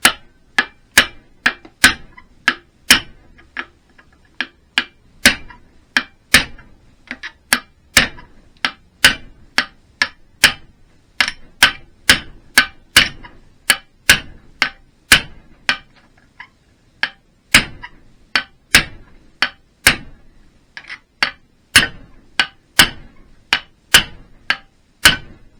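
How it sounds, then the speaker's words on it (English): A small hammer strikes metal again and again in a steady run of sharp, ringing blows, close and loud, with short pauses between bursts, while fitting fork yokes to a Triumph Bonneville motorcycle frame. "Bigger hammer might be better. I'm using this little thing."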